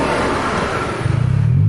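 A Scania bus engine roars close and loud during a night road race, rising into a throbbing rev as it accelerates near the end.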